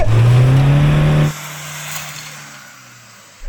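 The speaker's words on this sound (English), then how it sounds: "I was going full throttle and not much was happening apart from it spinning its wheels a bit and chucking up a load of mud" A pickup truck, a Toyota Hilux or Ford Ranger, runs at full throttle in mud with a loud close engine roar that cuts off abruptly after about a second, leaving a lower fading rumble.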